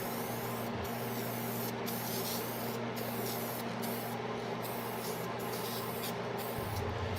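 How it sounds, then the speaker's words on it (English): Deft spray-on lacquer hisses steadily from an aerosol can in bursts, coating a wenge and birdseye maple keepsake box, with brief pauses between passes. "For the finish, I used 4 coats of spray-on lacquer"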